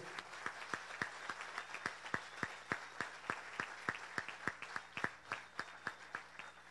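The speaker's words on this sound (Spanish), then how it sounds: "Yo pido un aplauso para ellos." Steady rhythmic clapping from an audience at a Spanish-language gathering, moderately distant, with sharp regular claps continuing for several seconds and no talk.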